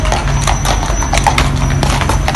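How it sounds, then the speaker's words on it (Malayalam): A horse walks along a road in the UK ahead of a traditional horse-drawn funeral chariot, its hooves clip-clopping in a steady, loud, close rhythm with occasional sharper strikes and a faint whinny-like tone. "ആ കുതിരയാണ് റോഡിലൂടെ നടന്നു പോകുന്നത്."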